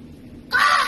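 A person imitates a crow with a single loud, drawn-out caw that starts abruptly halfway through, following a quiet stretch.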